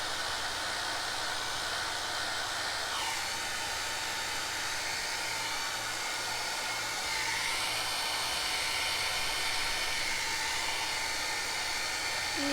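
A hair dryer blows steadily over an alcohol ink painting, a continuous broadband whoosh running close and loud throughout with slight shifts in pitch as it moves.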